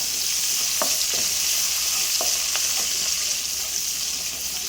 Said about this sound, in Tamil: இந்த ஸ்டேஜில் கருவேப்பிலை போட்டுருவோம். போட்டு நல்லா ஒரு மிக்ஸ் பண்ண வேண்டியதான்.